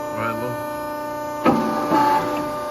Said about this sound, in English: Once you got it set, and you switch it over to cycle. We will cycle it